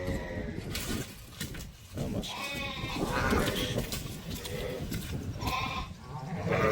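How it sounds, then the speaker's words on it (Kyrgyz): Young ram lamb of an elite sheep breed bleating at a farm in Kara-Balta, Kyrgyzstan, with goat-like calls recurring amid other livestock and background noise at moderate loudness. "Карбоносу бар, кулак узун, кастяктары жоон, курсактуу козу кочкор."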